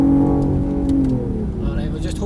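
A supercar accelerating under full power on a track at Ingleston, Edinburgh: a steady engine drone rising in pitch as it pulls, under continuous talk from a driving instructor.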